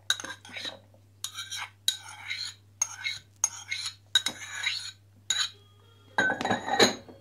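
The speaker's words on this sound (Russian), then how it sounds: "Теперь все маринованные компоненты салата перекладываем в отдельный контейнер. Грибы, огурцы." Pickled mushrooms and cucumbers for a potato salad are moved into a separate container, giving a run of close, short clinks and scrapes of utensil on dishware in irregular bursts, with no talk.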